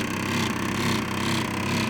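A Dynotherm HVAC unit runs with a steady, dense mechanical drone and a fine rattling texture, close and constant throughout with no talking.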